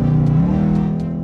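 A Jeep Trackhawk engine revs loud and close, a steady deep growl with a slight upward sweep and a few faint ticks over the top, no talking.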